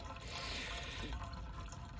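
Water pours steadily into a camping kettle at a tent campsite, a close, continuous splashing fill lasting a couple of seconds.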